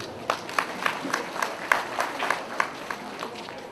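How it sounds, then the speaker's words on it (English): Slow, rhythmic clapping from a small group in a school gathering for parents, with about a dozen distinct moderate claps in steady succession over low room noise. "Kindly clap for your service."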